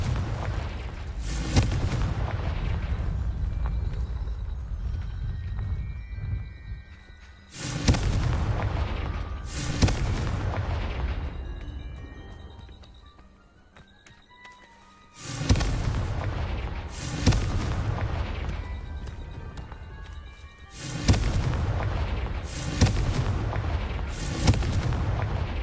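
Confringo explosive spell blasts from the Hogwarts Legacy game, a series of loud booming bursts that each ring out and fade over several seconds, repeating about four or five times with short gaps between.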